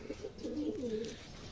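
A brown racing pigeon coos at the loft during a club training race in Cabanatuan, Nueva Ecija, giving a soft, near, rolling coo that lasts about a second over a quiet outdoor background.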